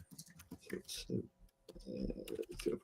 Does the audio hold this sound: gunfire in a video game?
no